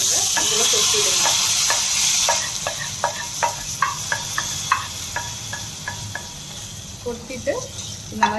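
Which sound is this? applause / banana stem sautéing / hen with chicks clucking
banana stem sautéing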